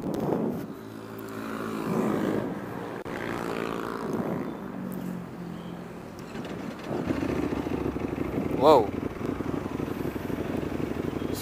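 A Ducati V4 R superbike engine roars nearby on a Sunday group ride, a steady low rumble that swells louder in the second half, with a brief sharp rev spike; a voice exclaims briefly early on.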